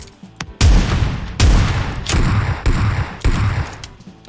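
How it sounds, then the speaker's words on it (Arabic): Gunshots in an online shooter video game, a series of loud, booming shots in close succession, each one sharp and heavy and each followed by a short ringing tail. "خلى ثلاث طلقات يا عزو ثلاث طلقات"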